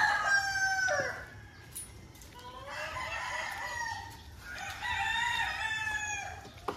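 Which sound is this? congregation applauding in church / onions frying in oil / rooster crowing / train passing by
rooster crowing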